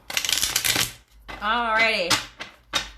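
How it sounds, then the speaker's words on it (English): Heavy shuffling of small tarot cards in bursts of dense riffling clicks, close and crisp, with a brief spoken word between the shuffles. "You know it's about to get real when you hear that heavy shuffling"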